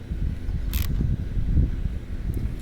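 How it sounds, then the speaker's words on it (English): A wrench ratchets a bolt tight on a Surron LBX electric dirt bike's motor mount while a pry bar holds chain tension, giving a close run of small mechanical clicks and creaks with one brief sharp burst partway through. "I'm gonna hold tension on the pry bar and I'm gonna tighten this bolt"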